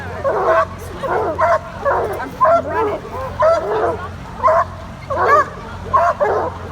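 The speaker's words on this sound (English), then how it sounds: "There are the dogs." Several dogs bark and yip in bursts at water dog races, a lively repeated rhythm of sharp calls close by, with a person speaking briefly over them.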